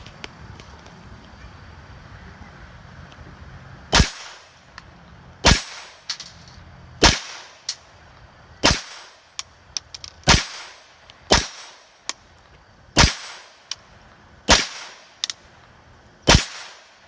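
A Ruger 22/45 pistol fires ten Federal Spitfire .22 rounds, 31-grain bullets at 1,500 feet per second, as sharp, loud, close cracks spaced about a second apart over faint outdoor wind, with no talking.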